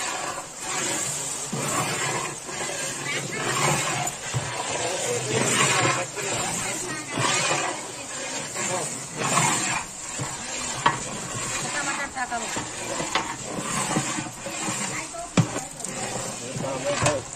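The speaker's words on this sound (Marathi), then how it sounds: "हे बघा आता कढीपत्ता टाकतोय." Curry leaves dropped into hot oil with a chili mixture, giving a loud, constant crackling sizzle with occasional pops and stirring scrapes, close up throughout.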